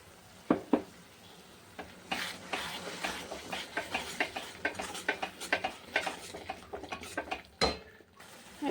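Spice paste of turmeric, Kashmiri chili powder and salt loosened with water, stirred in a pan with a quiet sizzle and repeated scraping clinks of a spoon against the metal, close and steady.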